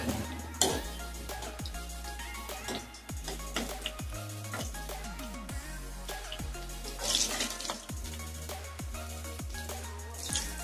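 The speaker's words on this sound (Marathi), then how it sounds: "हलकेसे फ्राय करून घेते, म्हणजे सेलो फ्राय करून घेते।" Spinach vadi balls shallow frying in a pan, a soft, low sizzle with scattered drips and small taps, quiet and steady throughout, with no talk.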